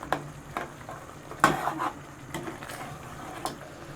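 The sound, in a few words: frying spice masala for mutton qorma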